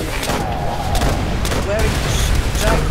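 Heavy, continuous gunfire and explosions roar across a beach in the World War II game Call of Duty: World at War, thick and loud throughout, with a voice faintly mixed in.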